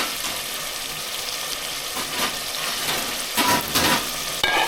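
Chicken curry sizzles in a pan while being stirred, a continuous close frying hiss with several louder bursts of scraping and bubbling near the end, with no talking.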